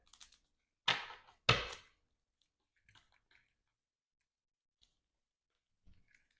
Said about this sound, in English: Let's shuffle up our deck.